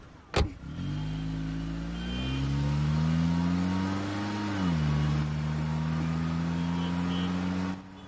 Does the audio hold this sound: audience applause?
no